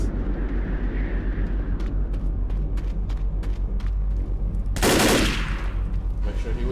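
Left 4 Dead gunfire rattles in rapid, evenly spaced shots over a low rumbling game backdrop, and a loud blast or burst of noise erupts near the five-second mark.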